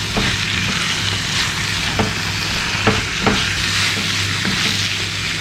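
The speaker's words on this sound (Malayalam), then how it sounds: "ചിക്കൻ്റെ ടെക്സ്ചർ മാറുന്ന വരെ നമുക്കൊന്ന് വഴറ്റിയെടുക്കാം" Chicken sautéed in a kadai over high flame for kadai chicken, a loud dense sizzle with repeated spatula scrapes and knocks against the pan, continuous and close with no speech.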